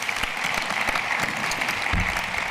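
Sustained applause from a conference audience at a general practice medical education congress plenary, dense steady clapping filling the room from start to finish without pause.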